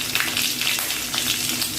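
Dried red chilies drop into hot oil with cumin seeds, giving a steady close crackling sizzle that holds without pause.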